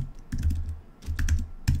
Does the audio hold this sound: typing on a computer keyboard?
yes